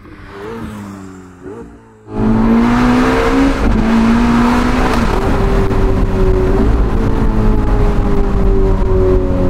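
A Novitec-tuned Ferrari SF90 Spider with a sport exhaust and NF10 wheels starts up quietly, then bursts into a loud, sustained engine roar. The revs climb in steady harmonic steps and hold high.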